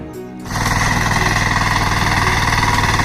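Power weeder tractor in a Konkan field, engine kicking in after a brief quieter moment and then running loud and close with a steady rapid chugging vibration.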